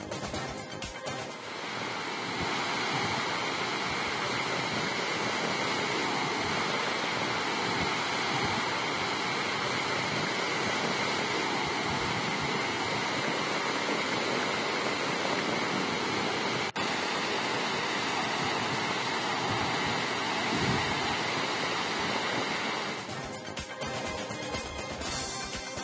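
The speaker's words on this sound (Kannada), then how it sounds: "ಹಾಲ್ನೊರೆಯಂತೆ ಧುಮ್ಮಿಕ್ಕಿ ಹರಿತಾ ಇರುವಂತಹ ಕೃಷ್ಣಾ ನದಿ ನೋಡುಗರ ಕಣ್ಮನ ಸೆಳೆತಾ ಇದೆ" Water released through opened dam gates on the Krishna River in Karnataka roars in a steady, dense rush that continues unbroken and fairly loud throughout.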